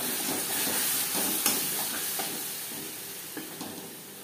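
Onions and spice paste fry in a pan for prawn malai curry, a steady broadband sizzle with a few soft stirring scrapes and clicks, fairly close and continuous without talk.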